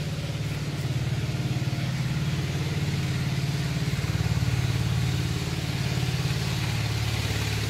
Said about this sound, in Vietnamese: nhà mình ở gần bờ sông á, cho nên ghe tàu chạy qua